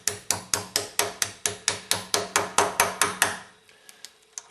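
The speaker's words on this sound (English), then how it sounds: "A few light taps of the hammer." A hammer striking a socket to drive a crossover relief valve into a Meyer plow pump, about fifteen evenly spaced sharp metallic taps close up, then two or three softer scattered knocks.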